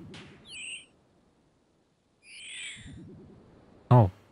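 A seagull in a video game squawks in two short cries, then is struck by a sharp, loud hit near the end of the brief clip.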